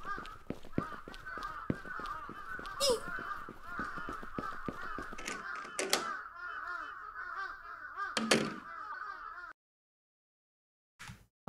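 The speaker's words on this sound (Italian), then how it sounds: "Ma che so sti corvi?" A flock of crows calls with many overlapping harsh, honking caws, loud and steady for about nine seconds before stopping, then one short burst comes at the end.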